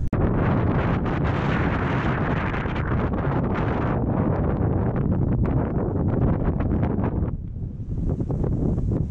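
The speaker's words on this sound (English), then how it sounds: "Little bit windy." Strong gusting wind, around 80 km/h in sub-zero cold, roars across a rider on a Honda Transalp motorcycle, a loud continuous buffeting rush that fills the sound, easing slightly near the end.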